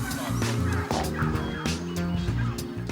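Bronze turkeys gobble on a farm, a loud, continuous chorus of rolling gobbles and calls from a flock close by, with no talk over it.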